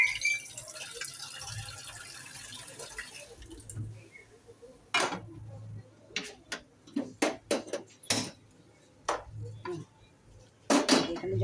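A pot of water clatters onto a kitchen stove to heat, with sharp metallic knocks and clinks of cookware in an irregular cluster after a quieter stretch, fairly close and with no talking.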